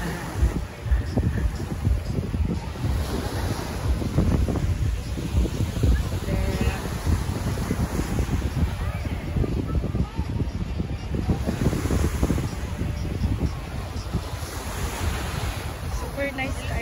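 Sea waves surge and wash at Glenelg jetty beach under strong gusting wind that buffets the microphone, a constant loud roar with rolling swells and occasional distant voices.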